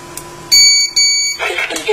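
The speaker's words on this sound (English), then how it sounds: "if you target the detector on 24-hour defenses, the main panel will alarm" A wireless GSM home security alarm's main panel gives off shrill, high-pitched electronic beeping in short loud bursts, heard up close in a quiet room.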